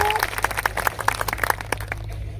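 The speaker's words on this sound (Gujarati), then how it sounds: "એમનું પણ એકવાર જોરદાર તાળીઓના ગણગણાટથી એમનું સ્વાગત કરી લઈએ" A crowd at an Aam Aadmi Party rally in Nasvadi taluka, Chhota Udepur, claps to welcome a speaker, a dense patter of many hands that thins out and fades toward the end.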